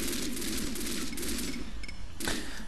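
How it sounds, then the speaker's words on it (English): Tommy gun firing in The Godfather video game, a dense rattling burst of automatic fire that carries on for most of the clip, then one short sharp burst near the end. "With the Tommy gun."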